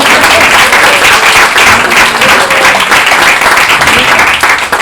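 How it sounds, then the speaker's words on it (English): An audience applauds at a stand-up comedy show on Comedy Central, heavy and continuous clapping that stays loud and close for the whole stretch. "we love the opening applause"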